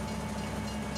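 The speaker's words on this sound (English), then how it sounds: "We get to just ride the train and enjoy the countryside with the fall trees" A train ride through autumn countryside in the Farming Simulator 22 video game, with a steady rumbling rail drone and a low hum, continuous and fairly quiet, with no voices.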